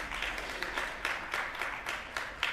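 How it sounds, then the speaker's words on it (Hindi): An audience at a raw diet camp session in Jabalpur applauds to welcome guests onto the stage, a faint, steady patter of many hands with slight rhythmic surges, heard from a distance. "कृपया अतिथिगण का स्वागत तालियों की गड़गड़ाहट से कीजिए।"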